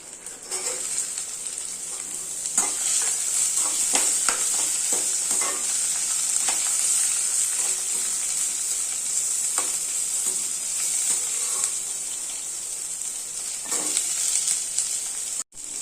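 Ridge gourd peel and small shallots fry in a pan with a steady, close sizzle and hiss throughout, broken by occasional stirring scrapes and spatula taps.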